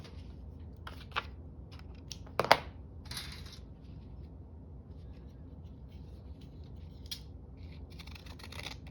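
Scissors snip through a sheet of paper, cutting out a sheep outline. A few sharp, quiet cuts stand out against a soft background hush, spaced unevenly with pauses between them.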